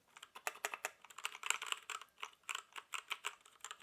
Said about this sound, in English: of the nice clicky sounds that keyboard presses make.